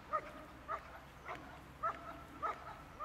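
A trained protection dog barks on guard in a steady series of about five sharp, evenly spaced barks, heard from a moderate distance over low background noise.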